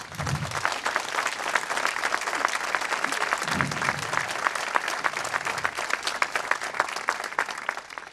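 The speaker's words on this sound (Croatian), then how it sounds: "jednim velikim aplauzom da pozdravite ovaj divni orkestar" A concert audience applauds an orchestra, a dense, steady wash of clapping from many hands that holds loud and even from start to finish, with no pauses.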